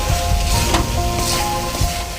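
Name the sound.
spice paste frying for Bengali chicken kosha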